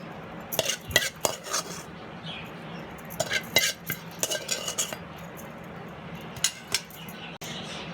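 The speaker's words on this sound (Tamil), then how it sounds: "இப்போ தயிரில் இந்த கத்திரிக்காவை சேர்த்துடலாம்." Spoon stirring sautéed brinjal pieces into curd for brinjal raitha, with clinking and scraping against a bowl in irregular bursts, close and moderately loud, no talking.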